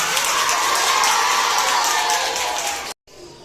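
An audience at a quiz show applauds and cheers the winner, dense loud clapping mixed with whoops that holds steady for about three seconds, then cuts off sharply.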